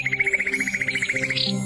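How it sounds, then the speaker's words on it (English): A fieldfare gives a quick run of rapid, evenly spaced chattering notes, fairly close and clear, ending in a brief harsher burst, no voices. "The song of the fieldfare has nothing on the blackbird, it is an unstructured mass of chattering"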